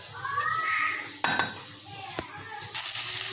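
Panch phoron, onion and green chilli frying in a pot for Bengali dal, a steady soft sizzle with a few sharp clinks of a spoon against the pan, and faint squeaky tones heard in the background.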